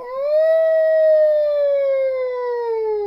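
A voice imitates a fire engine siren: one long, steady wailing tone that swells, holds and slowly dips, loud and alone.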